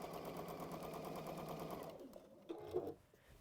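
Sewing machine stitching fabric along a pinned line, a steady fast rhythmic whir for about two seconds, then stopping, followed by a few small handling clicks and rustles.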